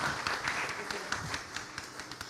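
Clapping from an audience at an Easter poetry recital: a scattered burst of hand claps, moderately close, with a voice speaking over it the whole time.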